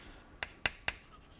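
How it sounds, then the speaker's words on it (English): Handwriting during a mathematics lecture, with three quick, crisp pen or chalk strokes tapping against the surface in a short irregular rhythm over a quiet background. "So let me write that down."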